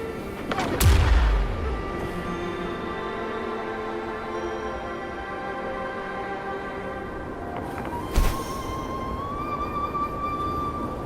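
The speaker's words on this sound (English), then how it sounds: "Perhaps we can create an opening in this disk with an explosion." An explosion of tacitite fulminate on a cliff in the video game Wuthering Waves goes off as a sharp, heavy blast at about one second. A second, briefer crack follows later, both standing out against a steady musical game background.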